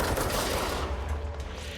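Sustained rapid automatic gunfire in a video game, a dense loud roar of shots emptying a magazine into an orb, unbroken throughout.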